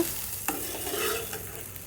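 Spiny gourd (aakakarakaya) pieces frying in a pan, with a steady close sizzle and a spatula stirring through it.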